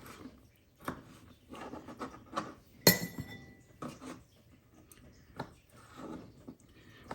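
Sticky chopped prune pieces being transferred into a bowl for a Tennessee prune cake: sparse clinks and taps against glass, with one sharper ringing knock partway through, in a quiet kitchen.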